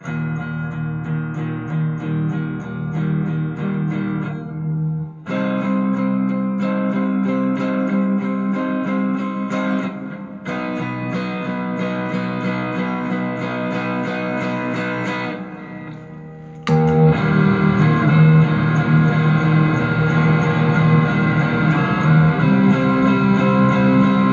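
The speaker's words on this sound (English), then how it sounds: "I was playing it there when I turned on the distortion." Electric guitar strums power chords through a distortion effect, a thick sustained wall of sound with brief breaks between chord changes and a louder final passage.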